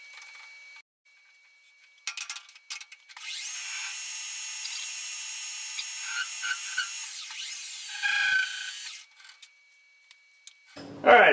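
A metal lathe cutting a large bevel on an odd-shaped part gives a faint, high whirring squeal that holds for several seconds and then breaks off, with brief scraping and handling noises on either side.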